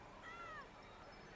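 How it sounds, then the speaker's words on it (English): A cat in Genshin Impact lets out a single faint, quick meow over a hissy, quiet background. "Almost definitely meow."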